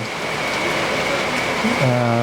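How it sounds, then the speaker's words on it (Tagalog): Steady hiss of moderate rain falling on a campsite after a heavy storm, with a faint tonal hum rising near the end. "Pero ngayon, umuulan pa rin, hindi na ganun kalakas."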